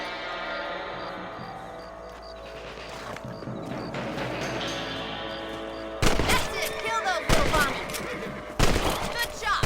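Rifle shots aimed at rabbits in the video game Red Dead Redemption crack out as a few loud, sharp reports in the second half, following a quieter stretch of ambient game sound and background score.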